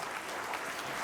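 An audience at a live business event claps in a steady, dense patter of applause, heard a little way off and fairly faint.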